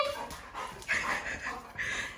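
A pet puppy waiting for its food bowl whimpers and gives high, thin yips in short bursts, fairly close but soft, with a faint background hum and no clear talk.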